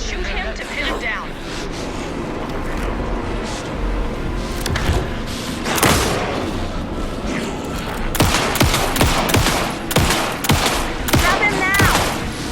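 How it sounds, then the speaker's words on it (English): Gunfire in the Alan Wake II game, a noisy fight with bursts of rapid shots, loudest and densest in the second half, over an action soundtrack with voices talking. "Shoot him to pin him down."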